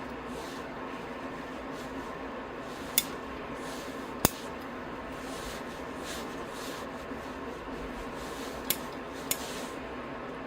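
Small snips while pruning the roots and branches of a giant sequoia bonsai during repotting, four sharp isolated clicks spread over a quiet background of faint rustling.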